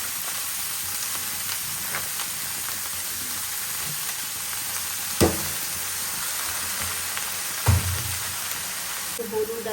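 Vegetable bhaji fries in a pan with a loud, steady sizzling hiss throughout, punctuated by a couple of spatula knocks and scrapes, while faint voices murmur in the background.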